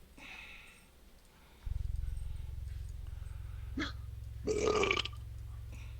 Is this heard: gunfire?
no